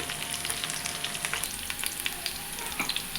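Onions, curry leaves and green chillies fry in hot tempering oil, giving a busy, crackling sizzle with quick pops and some stirring, close and steady, without speech.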